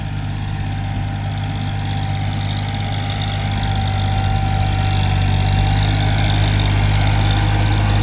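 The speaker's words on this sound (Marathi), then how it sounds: "छोट्या ट्रॅक्टरनं माती उडाले" A small tractor engine runs steadily at close range while earthing up soil around turmeric plants in a field, a continuous low idling drone that holds even throughout with no talk.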